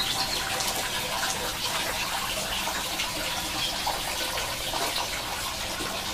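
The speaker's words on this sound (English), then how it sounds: "Now, down in the dry space, fountains bubbling." A garden fountain bubbles and splashes continuously under a roof, a steady wash of gurgling with no pauses, fairly close and even in level.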